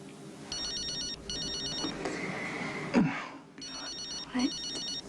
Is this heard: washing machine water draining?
no